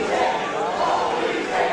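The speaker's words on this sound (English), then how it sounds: "You hear that chant from the crowd?" Fans at a Saint Louis Anarchy wrestling match chant together in a loud, dense, continuous crowd roar with a rhythmic swell, filling the arena.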